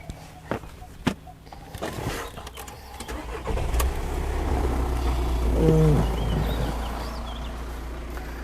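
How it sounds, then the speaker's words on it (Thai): A 2013 Volkswagen Caravelle 2.0 TDI diesel engine cranks and starts after a few clicks and knocks, then settles into a loud, steady low diesel idle close by, with someone talking briefly. "เดี๋ยวผมจะลอง สตาร์ทฟังเสียงเครื่องยนต์นะครับเป็นเครื่องยนต์ดีเซลนะฮะ"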